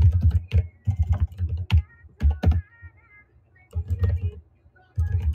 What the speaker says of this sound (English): typing gets faster